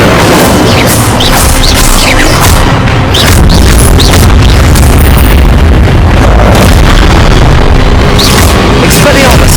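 Incendio fire spells blasting in Hogwarts Legacy, a loud, dense run of booming bursts and crackling roar that stays intense almost the whole time.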